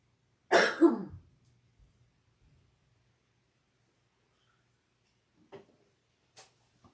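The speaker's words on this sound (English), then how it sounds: "Get this dry cough from that dirt and stuff" A single dry cough close by, followed by silence and a few faint clicks and taps.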